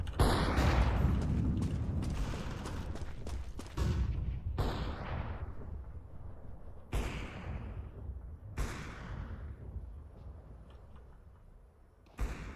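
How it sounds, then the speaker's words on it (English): Loud bursts and booming blasts from a Counter-Strike 2 match, likely a flashbang and gunfire: dense crackling impacts at first, then several sharp separate bangs with ringing decays spaced a second or two apart, fading quieter toward the end. "Throwing flashbang."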